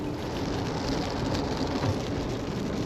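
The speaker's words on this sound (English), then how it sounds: "It is raining some," Steady rain falling outdoors in a South Carolina swamp, a continuous broadband hiss without breaks, moderately loud and close, with no voices.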